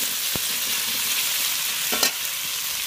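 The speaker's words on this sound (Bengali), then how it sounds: "হ্যাঁ পনিরটা ভাজছি আমি" Paneer fries in hot oil with a dense, even sizzle close up, broken by a couple of brief knocks from a utensil.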